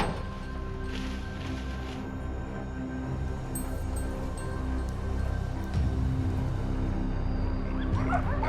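Hunting dogs on a wild boar hunt in an orchard, barking and whimpering at moderate distance in a steady stream, mixed with constant outdoor background noise.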